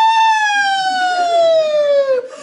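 A human voice imitates a fire truck siren with one loud, close, sustained wail that slowly falls in pitch for about two seconds before breaking off.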